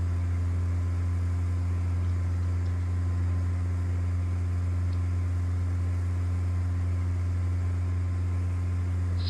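Steady drone of a simulated aircraft engine held at full throttle in level flight, a constant low hum with a strong tonal buzz, loud and unchanging throughout with no talk.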